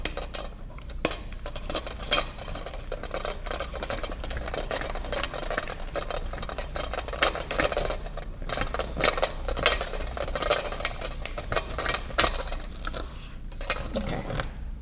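Hands knead a gritty sugar skull mixture for Day of the Dead in a bowl, giving a steady close scraping and crunching with light rattles against the dish. The sound runs continuously, with no voice.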